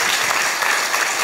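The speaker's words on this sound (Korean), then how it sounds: "박수 치세요." Dense audience applause during a lecture to university students in Gwangju, loud continuous clapping from a large crowd with no pause.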